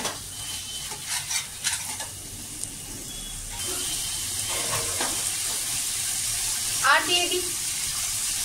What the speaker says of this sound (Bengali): পেঁয়াজ কলি আর টমেটো দিয়ে এবার ভালো করে এটাকে কষিয়ে নেব।